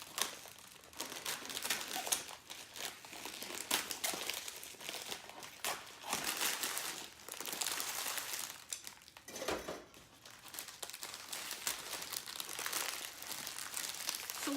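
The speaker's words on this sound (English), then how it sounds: "Grab some scissors here and cut it open." Plastic wrapping around a boxed Easter dinner roast is cut open with scissors, a close, faint, continuous crinkling and crackling with irregular rustles and snips throughout.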